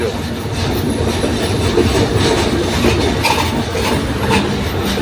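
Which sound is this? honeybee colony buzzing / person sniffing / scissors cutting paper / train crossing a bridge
train crossing a bridge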